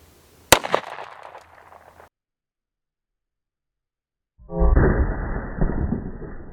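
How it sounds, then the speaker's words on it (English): A .45 pistol fires at improvised grocery-store body armor, giving one sharp, loud gunshot crack at close range with a short decay. After a silent gap, a dense rumbling noise follows. "this time we're going to shoot a little bit off to the right and see how it does over there"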